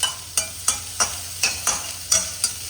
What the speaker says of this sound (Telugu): కొంచెం నూనె పోసి ఉల్లిగడ్డలు వేసి